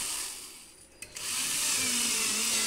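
A power drill bores holes in the side panel of a shelving unit built from scratch. After a brief pause and a sharp knock, it settles into a steady, loud whirring whine that runs to the end.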